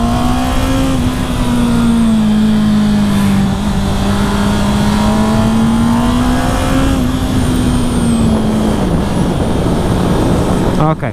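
A 2019 Honda CB650R motorcycle's inline engine runs hard at high revs, a loud, sustained buzzing drone whose pitch rises and falls gently before dropping off near the end, with wind rush behind it.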